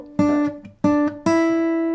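Fingerstyle blues guitar plays a short phrase of three plucked notes and double-stops, each attack ringing and sustaining clearly, solo and close with no voice.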